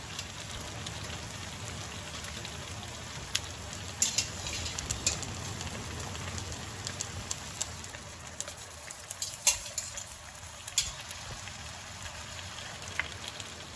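Meat added to a pot of potato leaf stew for a Gambian dish, giving a soft continuous sizzle and bubbling hiss with occasional small clicks and stirring knocks, steady and close, no talking.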